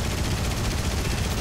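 Aircraft cannon in the War Thunder flight game, firing as a dense, steady burst of rapid shots that fills the whole moment at an even loudness, with no talk over it.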